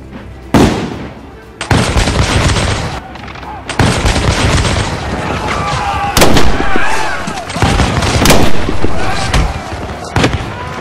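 Musket gunfire in a Lego brick film battle at Lexington, loud sharp cracks bursting repeatedly across the stretch with rumbling volleys and echoing booms, dense and close, with voices mixed in among the shots.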